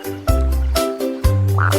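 A frog croaks in a children's song, giving a few loud, close, low croaks in a steady rhythm.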